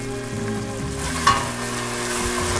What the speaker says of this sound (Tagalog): Tapos, haluin natin.